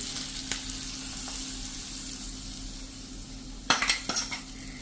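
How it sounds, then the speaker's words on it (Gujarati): Hot oil tempering poured over chickpea curry, a faint steady hiss broken by a few sharp, crackling sizzle bursts near the end. "હવે આ વઘારને આપણે ઉપરથી છોલે ઉપર રેડી દેશું"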